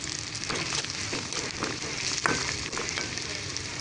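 Onions frying with salt in a pan, a steady close sizzle with light crackle and faint stirring, alone without talk.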